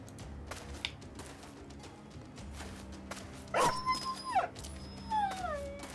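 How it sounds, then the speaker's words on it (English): Dogs in a battle video game yelp, whimper and let out rising, wavering howls as they are killed, several cries overlapping amid combat clatter, fairly close and loud. "There's a lot of dogs getting killed."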